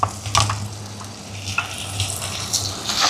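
Onions sauté in a pan with a soft, close sizzle, broken by a few light scrapes and clinks of stirring.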